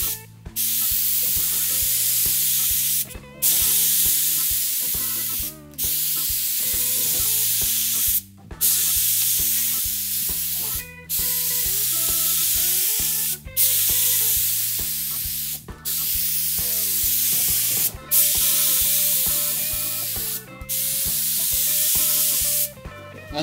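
An HVLP sprayer applies polyurethane sealer in long, steady hissing passes of a few seconds each, separated by short breaks where the trigger releases, close and fairly loud, with no talking.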